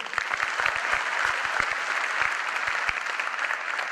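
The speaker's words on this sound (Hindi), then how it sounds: "तालियां इनके लिए" Audience applause for a participant at a business seminar, a dense, steady burst of many hands clapping close by, sustained throughout without talk.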